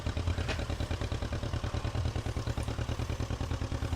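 Tractor engine in the Farm Simulator video game, a steady, loud, rhythmic chugging throb that pulses evenly like an idling motor, with no talking.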